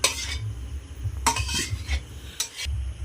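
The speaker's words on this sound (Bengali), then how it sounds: "চিকেন কষাটা আমি হাঁড়িতে ঢেলে দেবো।" Cooked chicken kosha for village-style biryani is poured and scraped from a pan into a pot, giving several close, scratchy metal scrapes and clanks in uneven bursts.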